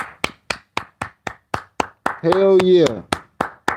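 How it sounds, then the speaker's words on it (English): One person claps hands in a steady, even rhythm of sharp, close single claps, briefly interrupted by a loud spoken exclamation before the clapping continues. "this clap is for you"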